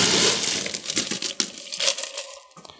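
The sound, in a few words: ice dropped into a cocktail shaker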